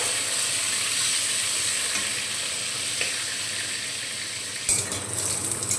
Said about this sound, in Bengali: প্রথমে পটলগুলো ভেজে নেব।